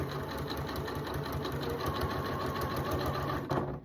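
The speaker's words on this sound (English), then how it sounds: "and just sewing along" Sewing machine stitching small quilt squares together, a fast steady mechanical whir of needle strokes running continuously at close range.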